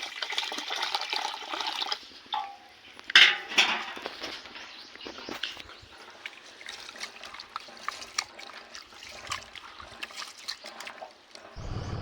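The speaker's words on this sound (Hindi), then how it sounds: "चलो अब इसमें पानी भी डाल देता हूँ।" Water is poured into a cooking pot of rice, splashing and gurgling unevenly, with a few sharp clinks and sloshes close by.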